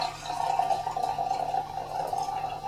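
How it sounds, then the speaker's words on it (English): Nilgiri Tiger Hill Supreme tea liquor poured from a lidded brewer, a steady trickling stream of liquid with faint drips, continuous and close, no talking. "I can get ready to pour my liquor now"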